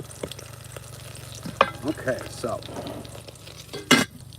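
Chili ingredients frying in a pan give a steady low sizzle running throughout, with a few brief louder clatters near the end and a voice speaking briefly over it.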